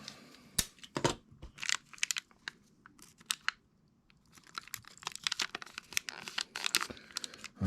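Strips of tape are torn off and pressed onto a TS-1 Mark 2 microphone during reassembly, heard as several sharp close ripping bursts and crinkling handling noises, with quieter gaps between.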